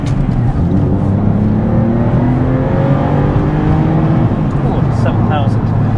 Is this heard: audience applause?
no